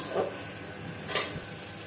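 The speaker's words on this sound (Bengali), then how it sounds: "এবার দিয়ে দেব আমরা মাছটা। এখন নেড়ে নিয়ে মাছটা দিয়ে দিল মা।" Katla fish slides into hot oil and gets stirred for Bengali doi katla, giving a steady frying sizzle with a brief louder hiss and scrape partway through.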